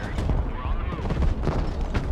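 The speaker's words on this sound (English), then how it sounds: "23mm cannon shredding up the infantry inside the hangar" Rapid 23mm autocannon fire raking infantry inside an airbase hangar during a Broken Arrow battle, a dense, continuous burst of overlapping gunfire and impacts with low rumbling booms throughout.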